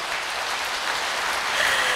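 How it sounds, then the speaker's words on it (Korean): Audience applause of welcome at a charity sharing event marking an international Human Club's 29th anniversary, a dense steady patter of many hands clapping throughout, fairly distant and even, swelling slightly at the end. "모두 다 함께 환영의 박수 한번 다시 한번 나눠주시면 고맙겠습니다"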